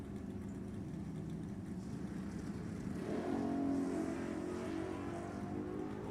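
Super Pro drag race cars at Sacramento Raceway rumble at a distance, a low steady engine drone that swells in the middle as the cars accelerate, heard alone without talk.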